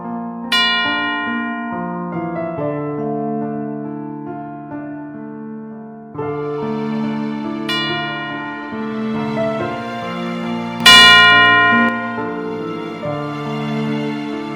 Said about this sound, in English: that little ding sound gets layered over itself and gets exponentially louder